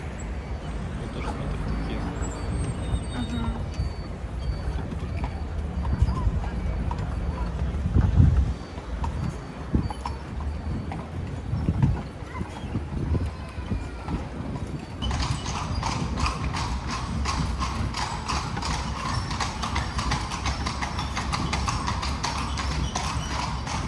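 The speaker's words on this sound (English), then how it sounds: "we indulged in a carriage ride celebrating our fourth anniversary" Hooves of a horse-drawn carriage on a ride through Vienna, clip-clopping in a steady rhythm for the whole stretch, close and fairly loud, with occasional voices and street noise around.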